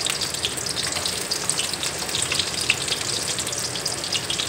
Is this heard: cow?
no